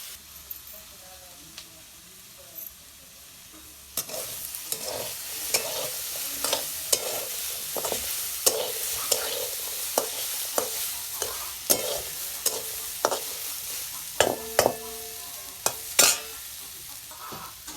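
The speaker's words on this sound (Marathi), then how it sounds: "आधी बटाटा आहे ना कढईमध्ये हे करून घ्यायचं परतून घ्यायचं असं बिगर तेलाचं" Diced potato is stir-roasted without oil in a wok over a wood-fired stove for sabudana khichdi, a soft, dry sizzle under repeated sharp scrapes and knocks of the spatula that grow busier after the first few seconds.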